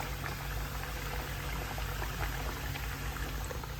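Steady, dense bubbling hiss of hot oil heating for deep-frying samosas, continuous and fairly quiet, with no voices.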